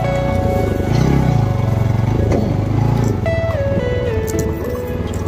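A motorcycle rides over a rough off-road track, its engine droning close and loud without a break while the pitch rises and falls with the throttle, over rumbling wind and road noise.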